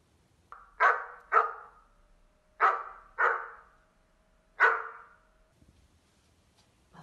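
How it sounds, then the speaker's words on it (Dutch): Five sharp dog barks, two quick pairs and then a single bark, loud and close in otherwise quiet surroundings. "een hond."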